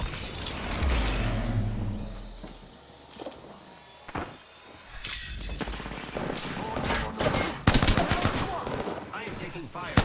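Rapid automatic gunfire and scattered single shots from a shooter video game, loud and busy throughout, with clanks and mechanical clicks between bursts and a voice talking at times.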